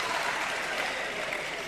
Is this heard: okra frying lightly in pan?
no